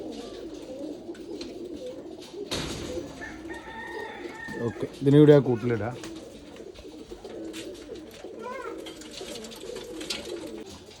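High-flyer pigeons coo and call softly in the background while a person talks nearby, with a brief louder fluttering burst midway.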